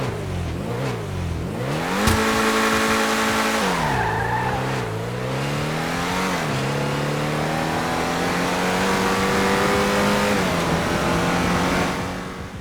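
Declasse Scramjet supercar from GTA 5 on normal engine power, its engine revving hard and loud through repeated rising pitch sweeps with several gear shifts, continuous for the whole stretch with no talk.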